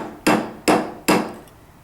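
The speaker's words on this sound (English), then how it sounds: "you can flip the hammer and hit it down with the head" Three sharp, evenly spaced hammer strikes set a rivet on a wire bangle, each a loud close crack with a short decaying ring, alone with no talk.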